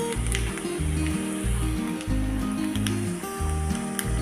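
Sesame seeds crackle and sizzle in a hot oil tempering for dhokla, a close, loud frying hiss with a low rhythmic hum underneath, no speech.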